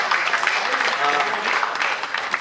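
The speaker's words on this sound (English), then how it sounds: "big round of applause for Ted and Mark" A crowd claps for Ted and Mark at the PTFK Awards 2016, a dense, steady patter of applause filling the whole moment at moderate loudness.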